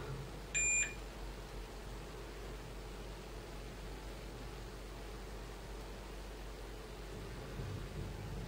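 A multimeter set to continuity gives a short electronic beep while checking the pins on a Nintendo DS Lite under repair, a single brief high tone near the start over quiet room hiss.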